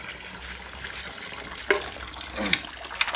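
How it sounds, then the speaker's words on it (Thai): Trapped water is forced out of a household water supply pipe during a leak check, a steady gurgling flow with a few sharper gushes and spurts near the end. "ใส่ลงดันน้ำออกนะครับที่ค้างในท่อ"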